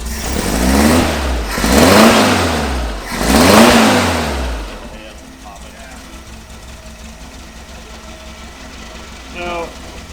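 An old Volkswagen Beetle engine, owned for about thirty years, revs up three times in close succession, each loud rise and fall fading before it settles into a quieter idle, with brief talk nearby.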